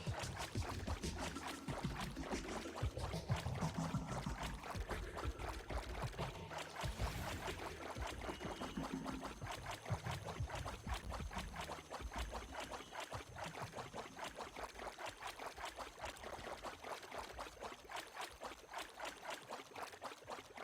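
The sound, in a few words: video game character walking on water, Otherside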